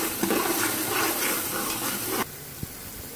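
Water poured from a glass into a cooking pot of browned kofta masala, a steady gushing pour for about two seconds that stops abruptly, followed by a faint clink.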